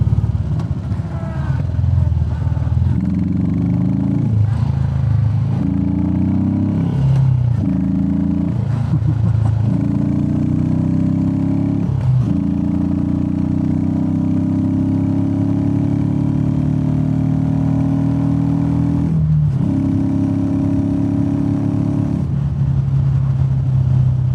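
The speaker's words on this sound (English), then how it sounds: "Exhaust note already is very good of this bike." A Royal Enfield Meteor 350 with a DNA air filter and a Classic 350 exhaust idles with a steady low thump, broken by several sharp throttle blips early on and one more later. It is close and loud, with no speech.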